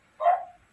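A single short bark from a pet dog, close and clear against a silent background.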